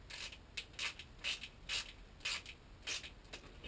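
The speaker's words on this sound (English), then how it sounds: "I'm going to take one of these screws and run it in just a little bit." A screw being driven into glued wood for a teardrop trailer build, heard as a series of rhythmic creaking, ratchet-like bursts, about eight close, evenly spaced pulses over a few seconds.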